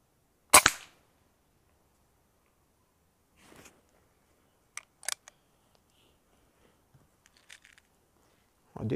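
A B12-7 air rifle fires a pellet with a sharp, close crack, followed by a few fainter clicks and taps spread over the following seconds, and another sharp crack near the end, with no talk.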